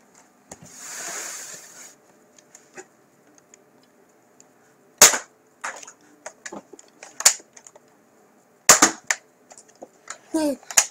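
A Nerf Zombie Strike foam-dart crossbow fires in a string of sharp, close snapping shots with bursts of rattling between them, after a brief breathy sound near the start.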